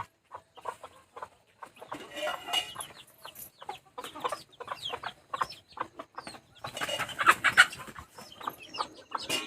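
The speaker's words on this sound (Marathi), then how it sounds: "काही कोंबड्या भांडणं आहे" Fighting chickens cluck and squawk in agitated, irregular bursts close by, with a louder flurry of squawking near the end.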